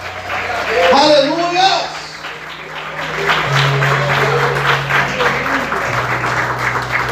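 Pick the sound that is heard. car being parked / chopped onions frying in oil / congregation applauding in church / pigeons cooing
congregation applauding in church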